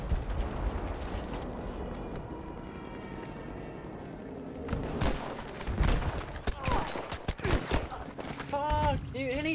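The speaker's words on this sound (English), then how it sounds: "he shot me from that far with that gun" Gunfire in a first-person shooter video game: a quiet stretch of game ambience gives way to dense bursts of sharp shots in the second half, rapid and loud, mixed with mechanical clatter and a few voices talking.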